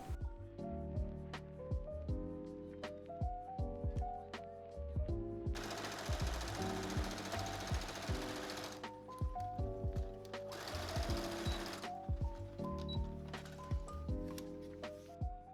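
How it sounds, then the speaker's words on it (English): A sewing machine stitches the side seams of a homemade wedding dress bodice, joining front and back pieces in several short runs of rapid mechanical chatter with pauses and faint handling clicks between them. "we're going to be taking our front and back pieces and sewing them together down their side seams"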